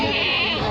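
At a goat market, a goat lets out one loud, close, sustained bleat that fills the short moment.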